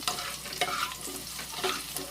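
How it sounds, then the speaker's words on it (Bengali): Potatoes sizzle and crackle in hot mustard oil while a utensil stirs them, with short scraping pulses over a steady frying hiss. "প্রথমে আলুটাকে একটু ভালো করে ভেজে নেব"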